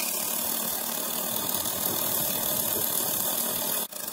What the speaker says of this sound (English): you hear a noisy propeller-like sound from the spinning argon gas because it's being spun and both ejected